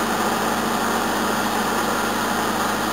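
A Toyota 18R-C engine idling after a cold start, a steady, close, unbroken drone with even mechanical hum and no voices.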